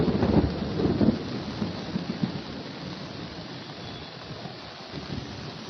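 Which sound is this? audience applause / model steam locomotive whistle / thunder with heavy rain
thunder with heavy rain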